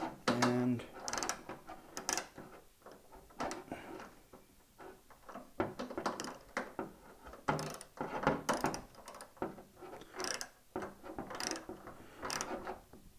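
Ratcheting and mechanical clicks from tightening down an adjustment on a table saw in a workshop, a series of short, irregular clicks and turns spread across the clip, fairly quiet and close.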